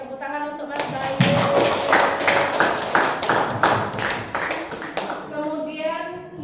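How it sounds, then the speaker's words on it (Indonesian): A chemistry classroom claps for a student, a short burst of brisk, uneven hand claps from a small group, rising quickly and fading after a few seconds, with faint voices before and after. "tepuk tangan untuk Mas Bayu"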